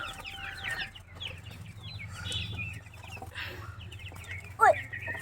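Chickens cluck and squawk nearby in a coop in short bursts over a low background hum, with one sharp, loud squawk near the end as they are caught.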